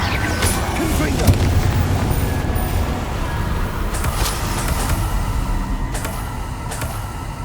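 Confringo blast spells explode in the Hogwarts Legacy video game, several sharp booms bursting over a dense, continuous wash of loud game rumble and effects.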